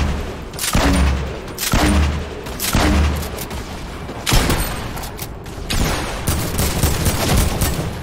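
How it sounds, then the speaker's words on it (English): Explosions in the video game Fortnite, Season 8, go off as a run of loud, punchy booms roughly a second apart. They are followed by denser overlapping blasts and rumble, with little speech. "Don't run just because I'm throwing explosions at you."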